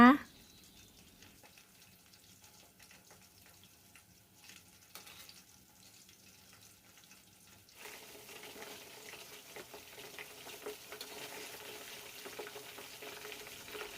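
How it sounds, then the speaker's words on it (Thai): Fish frying in a pan, a faint crackling sizzle that grows louder and busier partway through, with a sharp knock at the start and occasional small clatters. "แล้วก็ทอดไปเรื่อยๆ รอดูว่า ปลาสุกเราก็ค่อยพลิกกลับด้านนะคะ"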